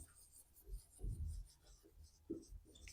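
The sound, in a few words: writing on a board during a physics lesson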